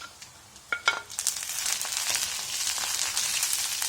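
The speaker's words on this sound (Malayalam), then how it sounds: "ഇതിലേക്ക് നമുക്ക് വറ്റൽമുളക് ചേർക്കാം." Onions and dried red chillies fry in a pan in a steady, close sizzle that swells after a few clatters of stirring, holding dense and continuous to the end.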